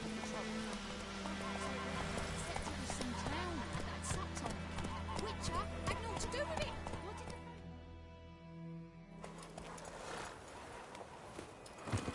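Roach, Geralt's horse in The Witcher 3, clip-clopping at speed on a road with steady rhythmic hoofbeats, a whinny, and snorts, fairly quiet under a sustained ambient tone with voices talking, the hooves dropping away near the end.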